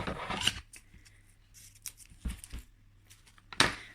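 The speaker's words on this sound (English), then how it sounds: "Knot in it, and then cut off the excess ribbon" Scissors snip through excess ribbon on a tree decoration, a few short crisp cuts with soft rustling handling sounds between them, close and fairly quiet.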